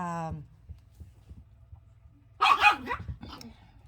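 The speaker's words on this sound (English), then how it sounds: "again, my dogs, like I said, they're yappy" Small yappy dogs bark indoors: a faint yip at the start, then a louder burst of several sharp barks near the end, with a voice briefly heard early.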